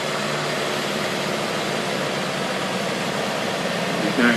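A heavy tractor engine drones steadily at a New Zealand Fieldays tractor pull as it drags a weighted sled, a loud continuous low roar with a dense, gritty texture that holds level throughout.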